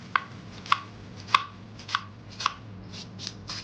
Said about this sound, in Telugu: టమాటా ఇలా కట్ చేసుకోవాలి.